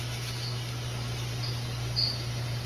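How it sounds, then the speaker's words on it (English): Large grasshopper indoors in a bathroom corner, a faint steady insect chirp over a low hum, with a few brief high chirps. "there was this huge grasshopper, and it had been there all day"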